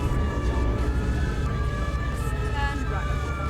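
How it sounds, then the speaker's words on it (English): Another emergency vehicle siren somewhere in Euro Truck Simulator 2, a wavering tone rising and falling over constant low truck engine rumble. "You hear another siren somewhere as well."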